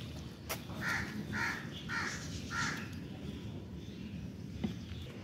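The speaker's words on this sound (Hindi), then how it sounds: "किधर है कौवे?" Crows cawing outdoors near a wall where roti scraps are put out for them, four clear caws in a steady rhythm at moderate distance over background ambience, followed by quieter surroundings.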